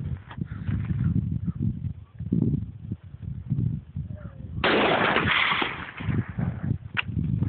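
A Remington 700 rifle in .308 fires a single loud, sharp shot outdoors midway through, with a short ringing tail over low background rumble.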